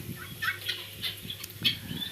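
Turkeys gobble in short, warbling bursts, several calls overlapping at a moderate distance in an otherwise quiet setting.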